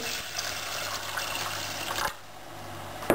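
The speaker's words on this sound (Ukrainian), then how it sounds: "Заливаю водою." Water gushes steadily into a pot of rice for about two seconds, then cuts off, leaving a quieter room tone; close and fairly loud.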